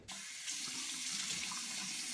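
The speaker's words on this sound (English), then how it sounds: "First step, wash the face with warm water." Warm tap water runs steadily into a sink for washing the face before a shave with a DE safety razor, a close, continuous splash and hiss starting almost at once and lasting throughout.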